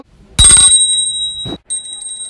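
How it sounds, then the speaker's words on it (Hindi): A bell rings loudly and close with a bright clang that fades away, then a second series of rapid, repeated high metallic rings follows after a short gap. "ये घंटी सुन रहे हो?"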